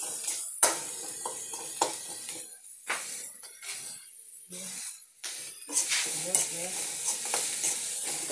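Food frying in oil in a pan while being stirred, with bursts of loud sizzling and hiss broken by repeated scraping strokes and short quiet gaps.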